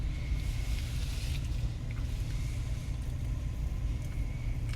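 A car being driven during a driving lesson gives a steady, loud low engine and road rumble from inside the cabin, with no talk.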